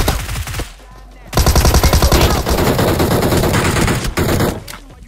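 Rapid automatic gunfire from the battle royale game BGMI, loud bursts of dense rhythmic shots after a brief quieter stretch, with short pauses between volleys.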